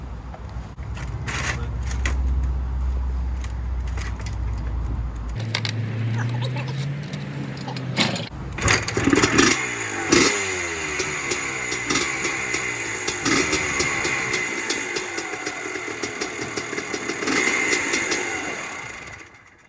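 An unrestored 1982 Husqvarna WR250 two-stroke motorcycle starts after a few kicks and then runs loud and close with an uneven, buzzing idle and occasional revs, a voice speaking over it at the start.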